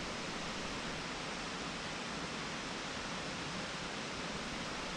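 High Falls, a 150-foot waterfall in Dupont State Recreational Forest, North Carolina, roars as a dense, constant rushing wash with no other sounds or voices.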